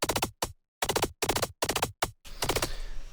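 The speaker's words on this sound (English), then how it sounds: "I have a slight variation on the machine gun bass" Short, punchy bursts of a gritty tearout machine-gun bass synth made in Serum 2 fire in rapid stuttering groups with brief silences between, ending in a noisier sustained burst.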